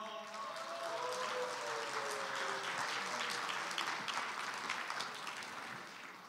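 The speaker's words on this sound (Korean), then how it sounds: "박수로 환영하시겠습니다" Welcoming applause from an audience at a church denomination gathering, sustained and even clapping that fills the whole stretch, fairly distant, with a voice speaking over it at the start.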